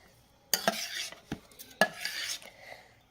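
A spoon scrapes and stirs a thick gram flour batter in a metal pot, breaking up lumps, with a few sharp clinks against the sides.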